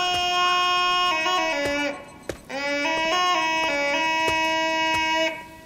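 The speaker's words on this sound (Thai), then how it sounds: "อันนี้คือเสียงแตรรถเขาล่ะ" Car horn in the video game Urayama, a loud sustained electronic honk held for about two seconds, a brief break, then a second long blast, with no talking.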